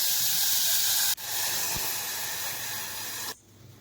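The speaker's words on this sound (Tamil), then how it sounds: "நல்லா கொதிச்சிருச்சு." A spiced masala mixture with cinnamon and cloves boils hard in a kadai, giving a loud, continuous steamy hiss and sizzle that cuts off abruptly near the end.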